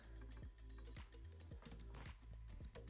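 Keys clatter on a computer keyboard in quick, uneven bursts of close, crisp taps with brief pauses between, and nobody speaks.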